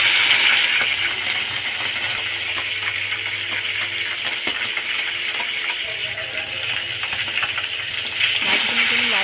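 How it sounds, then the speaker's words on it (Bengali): Small puti fish fry in hot oil in a wok, producing a constant bright hissing sizzle with a few small clinks, close and fairly loud throughout. "তো আমি এখানে প্রথমে মাছগুলো ভেজে নেওয়ার জন্য কড়াটায় তেল দিয়ে দিয়েছি। মাছগুলো ভালো করে ভেজে নেব।"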